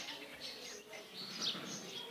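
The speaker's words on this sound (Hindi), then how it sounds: "ये उसके तोते हैं" Pet parrots chirp faintly on a terrace beside a planted garden plot, giving a few thin, brief high calls over a soft ambient background.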